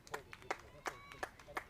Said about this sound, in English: And you can hear the applause from the crowd.